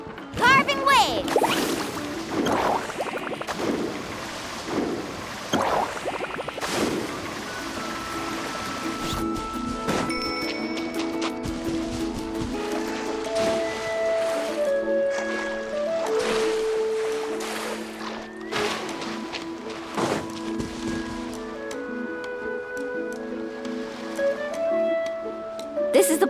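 Water rushes and splashes as a character rides across the sea in Genshin Impact, with repeated whooshing surges under a bed of game music and occasional sharp hits.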